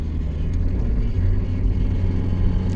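A Mazda MX-5 engine labours loudly as it downshifts on an uphill road, a steady low drone with rumble and wind noise throughout.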